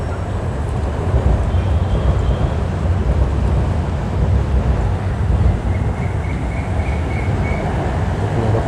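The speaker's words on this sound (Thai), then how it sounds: "ทางนู้นรถไฟวิ่งผ่าน รถไฟฟ้านะครับ BTS" A BTS Skytrain rumbles past in central Bangkok with a low, continuous roar and faint high whine, steady and fairly loud, nearby on an elevated line.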